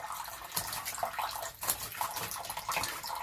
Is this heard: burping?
no